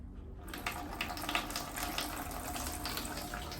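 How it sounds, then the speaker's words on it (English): Water pours into the pot of an indoor heartleaf philodendron, a soft continuous trickling splash that starts after a brief quiet moment and stays gentle and close. "so I'm going to give him some water now."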